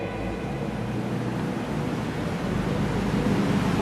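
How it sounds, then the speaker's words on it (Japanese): Sea waves surge and wash through the Dogashima sea cave on the Izu coast, heard from a sightseeing boat as a continuous broadband rush of water and wind, steady and fairly loud. "洞窟の中を通って波が打ち寄せ、浜を形作っております。"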